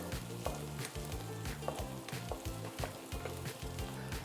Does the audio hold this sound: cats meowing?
no